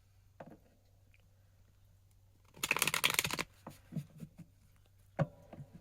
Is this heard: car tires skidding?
no